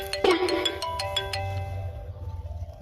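A mobile phone ringtone plays a bright electronic melody of repeated tones near the microphone, loud at first then continuing steadily, with no talking over it.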